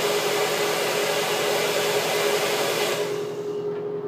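A hair dryer with a diffuser attachment held toward the hair roots blows in a loud, steady whirring rush, then cuts off near the end and winds down quickly.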